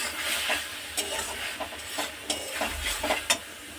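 Tomatoes, bay leaves, soybean chunks and vegetables stirred in a pan, a soft sizzle under repeated scraping strokes of a spatula at an uneven rhythm, close and fairly quiet.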